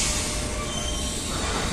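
A Z 20500 electric commuter train in Carmillon livery pulls into a station near Versailles, a steady loud rumble and hiss of wheels on rails passing close by, with no voices.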